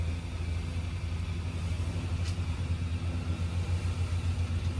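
A budget marketplace engine, already caught and running on its first fire-up, gives a steady, close, low idling rumble with an even throb and one brief high whine partway through.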